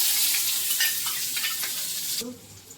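Chopped tomatoes sizzle and crackle loudly in hot oil tempering for a masala dosa potato filling, with stirring scrapes throughout before the hiss suddenly drops away near the end.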